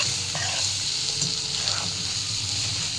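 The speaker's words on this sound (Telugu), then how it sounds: "కొద్దిగా కారం వేసుకొని ఫ్రై చేసుకోవాలి." Garam masala and chili powder fry in ghee with fried onions in a pan for biryani, a steady close sizzle with faint stirring scrapes throughout.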